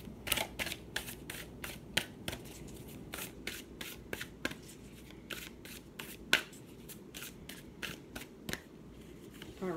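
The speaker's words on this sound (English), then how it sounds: "let's pull a card from this beautiful deck" Deck of cards handled while a card is drawn, a long run of crisp riffling snaps and flicks at an uneven quick rhythm, close and soft, with no talking.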